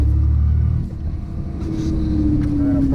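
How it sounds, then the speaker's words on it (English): A manual-transmission car driving with its engine rumbling steadily up close, dipping briefly as the clutch goes in for a second-to-third gear change and then resuming under load. "Now we're going to do a 2-3 shift. Clutch in, third gear, clutch out."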